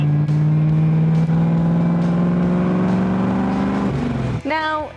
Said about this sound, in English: You can almost hear those Webers sucking the air in.